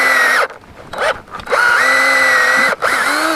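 A power drill with a 1/4 inch bit bores a tap hole into a maple tree outdoors, whining steadily in close bursts with brief pauses between them.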